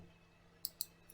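Computer mouse clicks on a quiet desk while working in an Excel spreadsheet, two sharp close clicks in quick succession and a fainter third, otherwise near silence.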